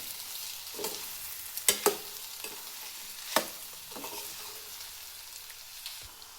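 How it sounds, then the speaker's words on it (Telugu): Egg and chili powder being stirred together in a pan, a soft steady sizzle under a few distinct clacks and scrapes of a spoon against the pan. "ఇప్పుడు మొత్తం మిక్స్ చేయండి కారం ఎగ్గు బాగా కలిసేలా మిక్స్ చేసుకోండి"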